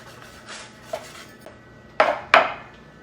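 A spatula lifts baked anise seed biscotti off a hot baking tray, giving a few light scrapes followed by two sharp metallic clanks close by.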